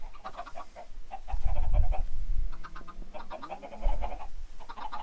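Chickens clucking in Minecraft, a run of short repeated clucks and squawks in bursts, fairly close, over low thumps and game noise with no talk.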